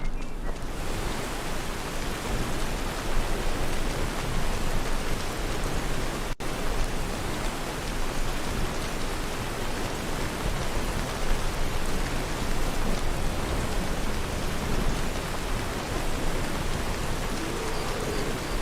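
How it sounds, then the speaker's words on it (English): Heavy rain pours steadily in the Skyrim video game, a dense, loud, unbroken hiss of downpour running throughout with no talk. "Jeez, this is some hot and heavy rain."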